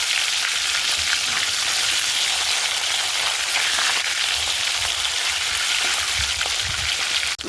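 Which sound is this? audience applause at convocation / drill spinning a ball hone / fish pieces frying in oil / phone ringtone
fish pieces frying in oil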